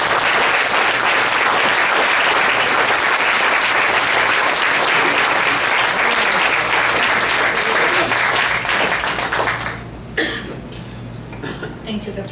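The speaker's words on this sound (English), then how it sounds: "A round of applause for all of you" Steady, dense applause fills a University of Miami pediatric cardiology faculty retirement party, loud and sustained for about ten seconds before thinning out into scattered claps and murmurs.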